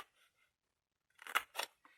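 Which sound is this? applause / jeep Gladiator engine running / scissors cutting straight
scissors cutting straight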